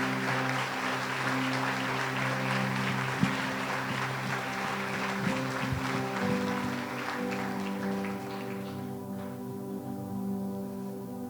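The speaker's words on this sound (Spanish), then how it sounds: "Otro aplauso a nuestro Rey, por favor." A congregation at a Sunday church service applauds at length over a steady, sustained musical tone, the clapping dense and moderately loud before thinning toward the end.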